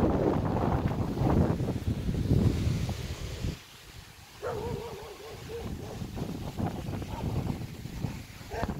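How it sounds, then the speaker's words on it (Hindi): Storm wind buffets the microphone in long, noisy rushes on a rural homestead, easing briefly midway before picking up again, with a faint tonal call and occasional voice-like sounds mixed into the gusts. "मौसम काफ़ी ज़्यादा ख़राब है जी, तूफान आ गया"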